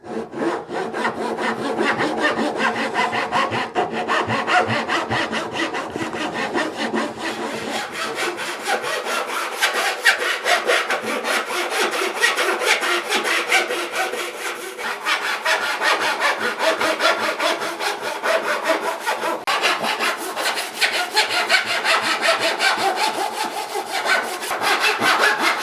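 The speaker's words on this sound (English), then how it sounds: "running this saw back through the slot effectively until the guide stops it from cutting" A hand saw cuts fret slots in a wooden guitar fingerboard for a Rickenbacker 620/12 build, a steady rapid rasping back-and-forth stroke that continues loud and close for the whole stretch with no talk.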